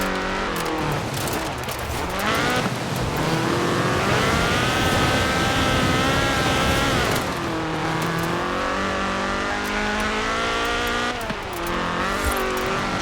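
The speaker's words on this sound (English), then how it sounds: "This was a car designed explicitly for rallying, with a powerful fuel-injected 1790cc Cosworth BDE engine." A Ford RS 1800 rally car with a fuel-injected 1790cc Cosworth BDE engine revs hard and continuously in Forza Horizon 4, loud and close, its pitch rising and falling through gear changes with occasional tire squeal.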